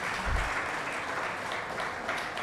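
Audience at a poetry event applauds, a short burst of dense clapping heard steadily across the moment.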